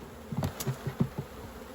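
Honey bees buzz on an open frame while a weak single beehive is reduced into a nucleus hive, a few short close buzzing bursts over a faint background hum.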